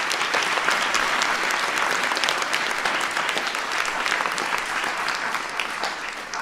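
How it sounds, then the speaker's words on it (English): Steady, dense applause from a large audience at a presidential press event, continuous clapping throughout without letup. "So give Anirudh a big round of applause"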